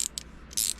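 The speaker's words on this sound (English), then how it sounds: "you got yourself a ratchet and wrench for your socket." A ratchet wrench fitted with a 1/2-inch drive socket adapter gives a few quick, light metallic clicks, close and faint, in two short bursts.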